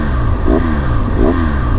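A motorcycle engine idles close by and surges twice as the throttle is opened, each rev rising briefly in pitch over a steady rumble.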